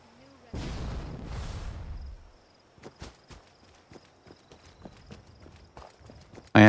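Goat-leg hoof footsteps in Fallout 76 clop in a sparse, uneven series of sharp taps, close and fairly quiet, following a brief burst of louder noise near the start.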